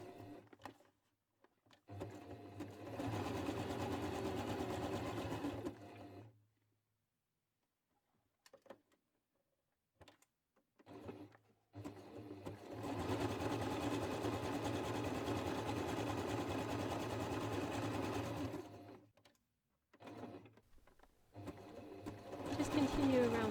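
A sewing machine stitches an appliqué letter patch in bursts of steady whirring, starting and stopping several times with short quiet gaps between runs.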